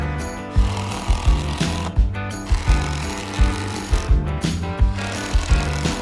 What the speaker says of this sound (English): he screws in the structural lag screws staggered up and down between each joist